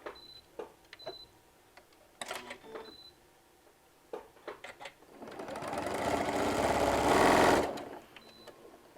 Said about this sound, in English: we need to back stitch, so I'm just going to flip this over and stitch this all over again